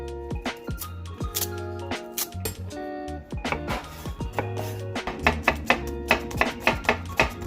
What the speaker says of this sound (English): I'm finely dicing my onions with my knife